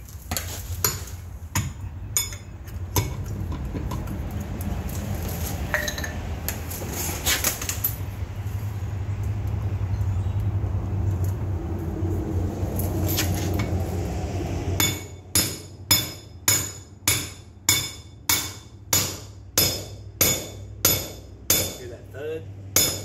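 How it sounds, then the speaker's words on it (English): A hammer drives a gimbal bearing seal into place on an Alpha 1 Gen 2 sterndrive, ending in a run of about ten sharp, evenly spaced metallic strikes after quieter rustling and handling noise. "we're going to hit it with the hammer until we feel it bottom out"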